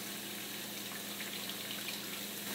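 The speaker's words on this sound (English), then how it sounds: "Because I can just let it drain out without worrying about it sitting in a pool of water." Water drains from a sink in a faint, steady, continuous gush and trickle, close by with no talk.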